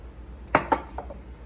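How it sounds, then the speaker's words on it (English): A spoon clinks against a glass while stirring a cocktail of Texas Crown and sweet lime juice, two quick bright clinks followed by a couple of softer taps, close and alone. "We're gonna stir this"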